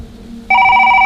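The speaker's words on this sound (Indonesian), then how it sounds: "Tiba-tiba, dering mainan itu muncul lagi." A toy rings like a telephone late at night: after half a second of faint background hum, a steady electronic ring with a bright warbling tone starts abruptly and continues loudly to the end.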